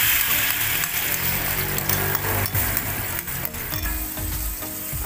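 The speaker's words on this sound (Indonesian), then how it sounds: "Lalu kita tumis dulu sebentar." A blended spice paste for clear-broth chicken soto sizzles loudly and continuously as it sautés in a hot pan, with crackling spatters and faint stirring scrapes.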